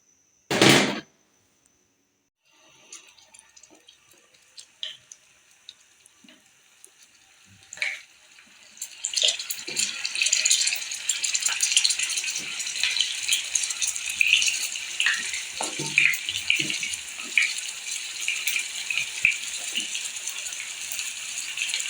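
Mutton koftas frying in hot oil for a restaurant-style kofta curry, starting with a sharp clatter and thud, then a steady bright sizzle with crackles and pops building and holding at moderate loudness.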